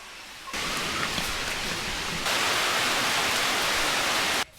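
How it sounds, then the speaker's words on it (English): Rain begins outdoors in Sri Lanka: after a moment of near quiet, a dense, steady hiss of falling rain abruptly sets in, then thickens and grows louder partway through before cutting off at the end. "It started to rain, so I had to move indoors."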